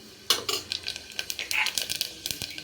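Bay leaf, star anise, cinnamon, cloves and fennel frying in hot oil in a pan for tomato chickpea rice, with crackling bursts and light stirring clinks up close and no voice.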